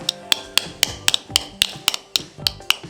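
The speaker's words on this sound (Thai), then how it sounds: "แล้วก็ใช้ค้อนนะครับตอกให้ตัวลิงเนี่ยมันหล่นลงไปก่อนนะ" A hammer taps a bicycle chain pin in a steady rhythm, about a dozen sharp, close metallic strikes evenly spaced, with no voices.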